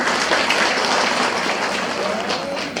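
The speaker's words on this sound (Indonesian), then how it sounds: "Tepuk tangan dulu untuk kita semua." Audience applause at an Islamic religious lecture for Isra Mi'raj in Karawang, a dense steady clapping from a crowd that fills the whole stretch at an even loudness.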